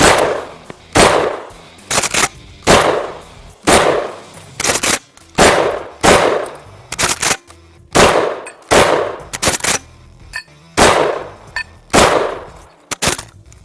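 A DP-12 double-barrel pump-action shotgun fires 12 gauge rounds in a steady series of loud, close blasts, roughly a dozen shots in pairs and singles with pump clacks between them and no talk.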